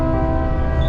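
A tram in Konya moving off, heard as a brief, steady, loud tonal motor whine with a rumbling low-end drone and no pauses.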